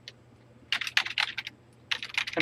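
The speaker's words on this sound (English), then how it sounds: "I'm typing in numbers" Numbers typed on a computer keyboard for a Replica 1 build: close, crisp key clicks in two quick flurries separated by a short pause, over a faint steady electrical hum.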